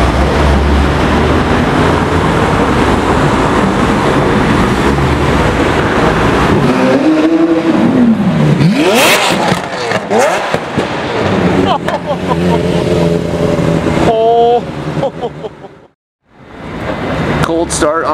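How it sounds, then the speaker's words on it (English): Lamborghini Aventador S cold starts loudly outdoors, its engine roaring and revving hard, with crackling bursts and a falling whine before a sudden short cutoff; people talk and shout around it. "Cold start on my buddy's Aventador S in our Oro Adontis color."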